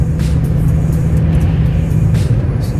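A truck heading to a loading site rolls along the road, its engine droning in a steady, loud, close low rumble with no voices.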